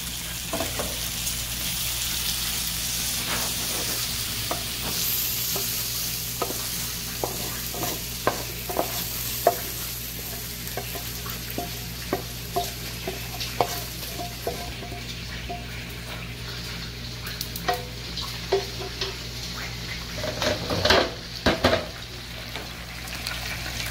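Pork chops frying in a pan for teriyaki-style chops, a steady close sizzle with scattered pops and crackles and occasional scraping as the pieces are turned, no voices.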